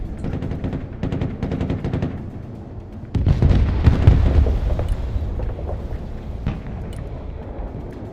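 Units fire their weapons in the real-time strategy game Broken Arrow, with dense bursts of automatic gunfire and louder booming volleys that swell midway and then settle into steady rattling combat.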